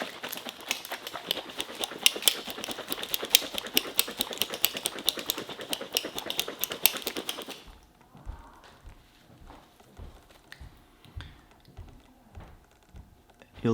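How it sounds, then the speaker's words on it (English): A bottle of matte varnish for oil paintings is shaken vigorously: fast, dense rattling and sloshing for about seven seconds, close and steady, then it stops and is followed by quieter knocks and handling sounds. "You just shake it vigorously for a few minutes."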